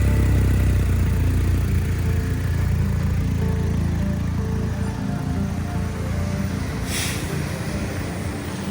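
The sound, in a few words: BMW R1250GSA motorcycle engine started and idling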